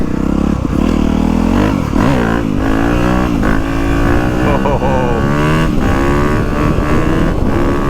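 A 2025 Honda CRF250R Works Edition dirt bike engine revs hard and loud up close during a wheelie, pitch rising and falling with throttle changes and wind noise throughout.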